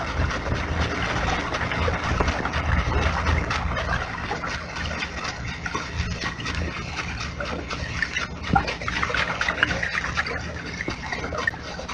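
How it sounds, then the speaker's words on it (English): Continuous low rumbling churn of a tanker's engine and propeller heard underwater at 500 yards, steady and loud with a broad hissing wash throughout. "Here, for example, is a tanker at 500 yards."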